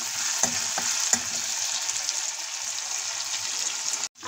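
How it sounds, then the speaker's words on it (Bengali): Ginger and cumin seeds frying in hot oil, a steady loud hiss and crackle close up with a few stirring scrapes early on and a brief cutoff near the end. "তেলের মধ্যে দিয়ে দিচ্ছি জিরে ফোড়ন, দিয়ে দেবো আদা, আদাটা একটু ভেজে নেব।"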